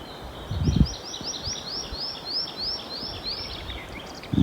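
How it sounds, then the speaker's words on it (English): Birdsong in an Estonian forest: a bird repeats a bright, rising chirping phrase in a regular series, with brief rustles and soft handling sounds nearby in an otherwise quiet woodland. "Nothing but the birds."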